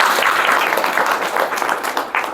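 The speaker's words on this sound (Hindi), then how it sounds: "ताली बजाओ भाई, पहली बार आए हैं इनके पास।" Audience applause at a Hindi-speaking community seva gathering, with many hands clapping together in a dense, continuous burst that stays loud and close throughout, with no talk over it.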